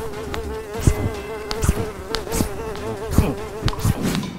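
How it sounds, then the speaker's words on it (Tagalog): A housefly buzzes close by with a continuous droning whine, under faint scattered clicks and background noise. "ganitong langaw na ito"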